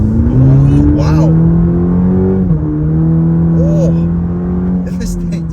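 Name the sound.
2023 Cadillac CT4-V accelerating in sport mode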